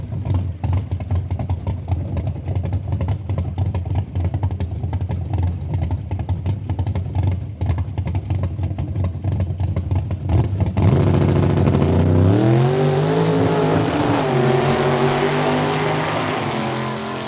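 A 1967 Camaro launches down a quarter-mile drag strip at Saskatchewan International Raceway, its engine a loud, rough roar that swells and then winds up through rising gear pulls as the car pulls away.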